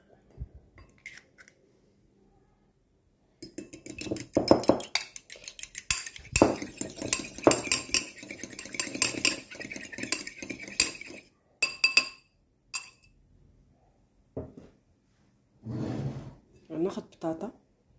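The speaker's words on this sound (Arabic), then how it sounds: "ناخذ هذه البيضه غنطربها" Egg beaten with a utensil in a bowl for a potato maakouda, a run of quick clinking, scraping strokes near the mic, stopping and restarting in short bursts, with a voice speaking between them.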